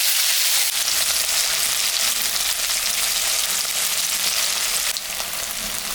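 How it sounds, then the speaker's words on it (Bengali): Paneer pieces fry in hot mustard oil in a kadai, giving a loud, steady, close-up sizzle that barely changes and has no one talking over it. "পনিরটা এখন আমি ভাজি"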